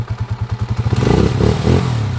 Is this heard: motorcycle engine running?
yes